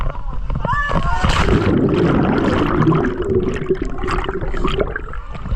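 Water splashes and sloshes continuously as people jump into a creek, shouting and talking excitedly nearby, with a steady rush of moving water underneath.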